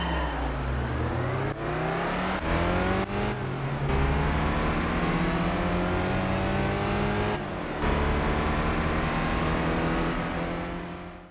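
A race car engine in Gran Turismo on the PSP, loud and continuous, revving up through rising gears with brief drops at each shift.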